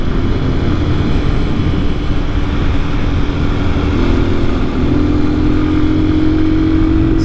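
An Amazon motorcycle climbing a steep hill at full throttle in fourth gear, a loud steady engine drone with wind roar and a slowly rising pitch, heard close up.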